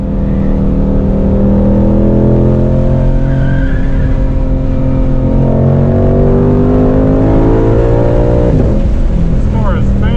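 A stock-exhaust 2020 Ford Shelby GT500 on a race track on a cold 35-degree day, its engine holding a loud, steady drone that rises and falls with revs across the whole stretch, with tire noise, close and continuous.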